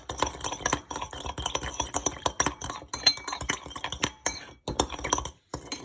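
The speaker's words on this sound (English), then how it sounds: "Just give it a good mix." Sugar stirred into hot water in a kitchen while making egg rolls: busy, continuous clinking and scraping of a spoon against a container in quick irregular strokes, close and fairly loud, with brief pauses.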